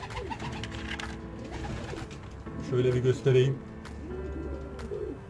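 An African speckled pigeon coos in soft, low, repeated phrases close by, the loudest run coming midway, while someone talks over and between the calls.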